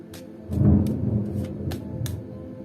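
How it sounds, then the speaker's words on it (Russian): A thunder clap rumbles low and heavy, swelling quickly then rolling away gradually, with several sharp, brief clicks or taps scattered over the rumble. "Надеюсь, этот раскат грома вы слышали уже."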